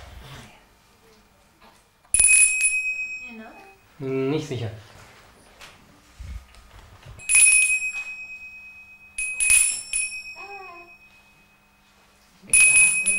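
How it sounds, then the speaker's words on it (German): A small bell rings in several short bright bursts during an infant development test, with an adult's and a baby's voices between the rings. "So, unsere böse Glocke nochmal nehmen."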